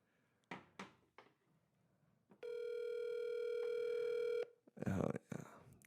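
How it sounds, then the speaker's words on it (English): A landline telephone gives a steady, loud dial tone lasting about two seconds, preceded by handling knocks and clicks and followed by a person speaking. "Nothing like the dial tone."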